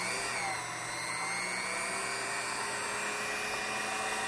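Key cutting machine cutting a high security key, a steady high-pitched whine of the spinning cutter running continuously at low volume with no voices.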